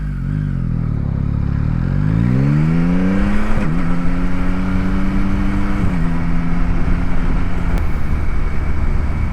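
A Yamaha MT-09 SP motorcycle engine revs up and settles into a steady drone through late-night city streets, shifting pitch as it accelerates, loud and close with road noise underneath.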